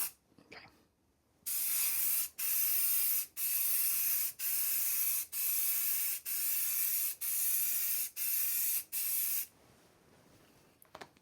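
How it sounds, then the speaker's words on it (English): Close spray gun hissing as lacquer is applied to a burr walnut veneer dashboard for a Triumph Spitfire Mk3, about eight even bursts in a steady rhythm with short pauses between passes. "let's lacquer this thing up. So like a thin coat to begin with"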